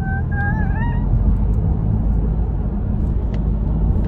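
A car is heard from inside the cabin while driving in Luxembourg, giving a steady low road rumble throughout. A brief high whistling tone rises near the start.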